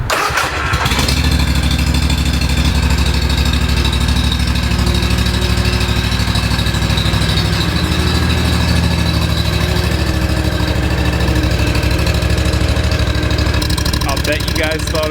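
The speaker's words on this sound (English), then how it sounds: "That, for those of you that don't know, is an aerator." A Classen stand-on lawn aerator's engine fires up and runs at a loud, close, steady roar with a rapid mechanical chatter, lasting throughout before a brief change at the end.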